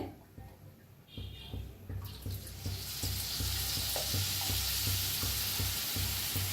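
Vada pav being fried in a pan gives a steady oil sizzle that swells as the food goes in and grows into a bright, continuous crackle, with faint clinks and scraping underneath.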